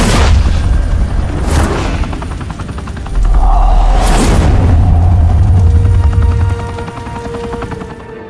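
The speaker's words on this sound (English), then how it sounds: "Open fire!" Loud gunfire and heavy explosions in the Batman: The Telltale Series game, with booming blasts, bursts of shots and a droning helicopter-like rumble, up close and with no talk.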